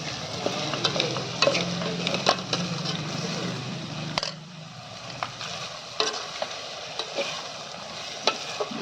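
Chopped onion stirred slowly in a pan while frying for bharthu, a steady close sizzle broken by repeated scraping spoon strokes and one sharp knock midway, with no voices.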